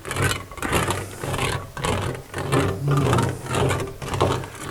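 An English wheel with a high-crown anvil rolls over a sheet of hammered silicon bronze, giving a continuous rumbling, scraping drone that swells and eases as the sheet moves back and forth, loud and close with no talking.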